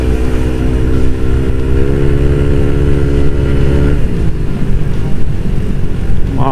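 A tuned Yamaha Nmax scooter engine with a modified CVT and 60-gram rollers runs loud and close, holding a steady high drone before the pitch drops and settles into a rougher, lower tone.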